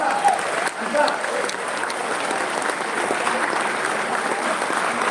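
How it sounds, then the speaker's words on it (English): A standing ovation fills a hall at a corporate Founders Day event, with dense, steady applause sustained throughout at moderate loudness, and a few faint voices mixed into the crowd noise. "Put your hands together, ladies and gentlemen. A standing ovation."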